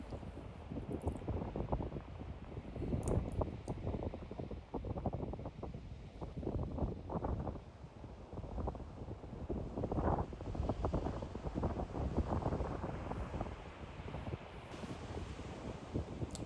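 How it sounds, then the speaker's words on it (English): Gusty wind by the sea at the Cornish coast buffets the microphone in a constant rough roar, with a faint wash of sea and waves beneath, no voices. "hopefully with the sound you'll hear the wind blowing in the background"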